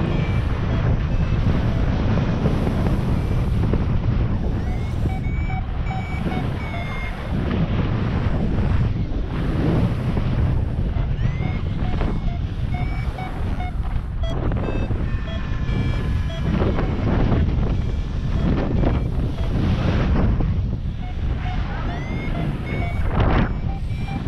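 Strong wind roaring past during a cross-country paraglider flight, a loud, steady buffeting rush that fills the whole stretch, with faint electronic beeps from flight instruments threading through.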